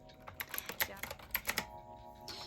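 Quick, uneven clacks of a retro typewriter-style keyboard being typed on, crisp and close, a short run of keystrokes with a brief pause near the end.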